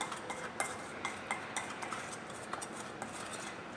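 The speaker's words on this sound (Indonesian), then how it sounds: "Ya, kita campurkan dan ini kita aduk. Oke, kita aduk sampai rata dulu." A spoon stirring chicken sandwich filling mixed with pepper and oregano in a bowl: soft, rhythmic scraping and light clinks about twice per second, quiet and close, with no speech.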